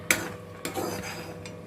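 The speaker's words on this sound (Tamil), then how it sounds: "கொஞ்சம் கிளறிட்டே கைவிடாமல் கிளறணும்" Banana halwa stirred in a pan, a few sharp metal scrapes and clinks of a spoon against the pan spaced over a quiet background, close and moderately loud.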